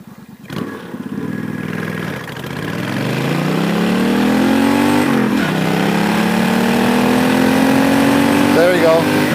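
A 1996 Suzuki Intruder VS1400 cruiser motorcycle starts from a rumbling idle, then accelerates hard from 0 to 60, its engine note climbing loud and close through a brief gear change before holding a rising drone.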